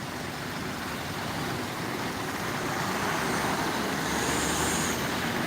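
Congested traffic on the toll road toward Jakarta near the Karawang Timur gate, a dense continuous roar of idling and crawling cars and trucks, broad and steady with a slight swell toward the end.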